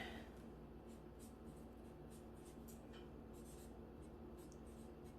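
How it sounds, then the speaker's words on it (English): A pen scratches names onto small white gift tags in soft, close strokes, faint repeated scribbles over a quiet room hum. "just simple white tags, just so I can write the name of them"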